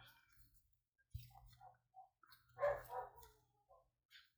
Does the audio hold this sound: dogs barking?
yes